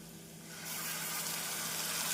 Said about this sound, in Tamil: தக்காளி விழுது சேர்த்து மீடியம் ஃப்ளேமில் இரண்டு நிமிடம் வதக்க வேண்டும்